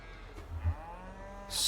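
A single cow in Farming Simulator 22 gives a low moo that swells briefly, then a faint sliding tone follows before a burst of hiss at the end, all fairly quiet.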